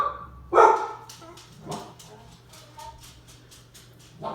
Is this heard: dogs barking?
yes